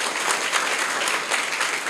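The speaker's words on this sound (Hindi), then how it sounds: "इनके लिए आप तालियां बजाएंगे।" Students clap together in a school classroom or hall, a dense, steady burst of hand claps filling the room at moderate loudness with no talk over it.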